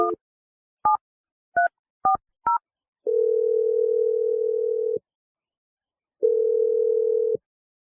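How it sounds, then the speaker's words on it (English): A telephone line gives a few short dialing beeps and then a long steady dial tone, which breaks off and returns for a second long stretch, clean and alone with no voices. "I'm going to dial a number right now."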